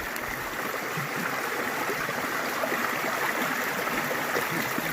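Steady rushing of a stream pouring over a small waterfall in a secluded forest, a continuous close, full-bodied wash of water with no pauses and no voices.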